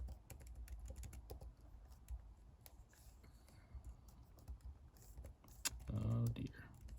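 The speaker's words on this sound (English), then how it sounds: "I'm typing in the dark," Someone types on a computer keyboard in the dark. Quiet, rapid, irregular key clicks run nearly nonstop, and a voice briefly speaks near the end.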